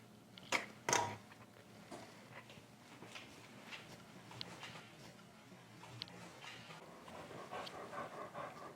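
A dog named Baxter yawns with a couple of sharp squeaky bursts, then pants softly and steadily at close range in a quiet room.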